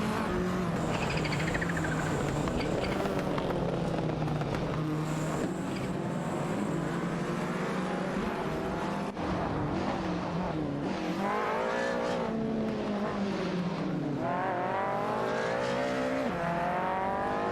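AI-driven race cars in a video game, including a Toyota Celica and a Lancia Delta HF Integrale, rev and whine through gear changes, with engine pitch sweeping up and down continuously as several cars battle closely.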